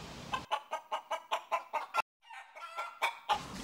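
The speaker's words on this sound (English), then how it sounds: "So today I bought a chicken." A chicken clucks in a quick run of about eight rhythmic, close-up clucks, then a brief pause and a further burst of loud clucking with a slightly strained, crowing edge.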